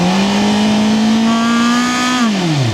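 Close and loud, a CFMOTO 500SR four-cylinder retro racing motorcycle engine screams at high revs past 7000 rpm, holding a smooth, rising tone before the pitch drops as the throttle closes; no voices.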